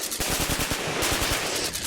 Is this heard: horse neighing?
no